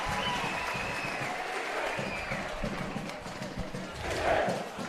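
A Gregory Terrace school crowd at a GPS rugby match against Nudgee College in a stadium claps and roars, a broad wash of applause and cheering, with a commentator talking over it.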